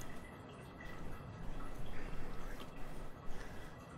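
Quiet, steady hiss of shower water running in the horror video game Remothered: Broken Porcelain, a soft continuous spray with faint drips throughout.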